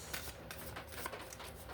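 Tarot cards being shuffled in a continuous soft riffling and rustling, close and quiet, with no talk over it.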